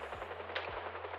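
Rapid automatic gunfire from a video-game shootout with police during a vault heist and chase, steady crackling bursts at moderate volume over a constant low background drone.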